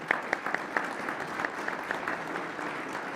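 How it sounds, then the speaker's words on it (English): Audience applause following a panel discussion on a ballot referendum and education funding: scattered, fairly faint clapping with a few sharper individual claps standing out, steady for a few seconds. "Everyone, please give our speakers a round of applause."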